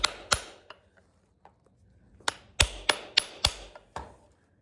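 Hammer blows drive a horseshoe onto a work horse's hoof, about eight sharp metallic strikes close by, a few spaced apart then a quicker run of ringing hits with short decays, no talk.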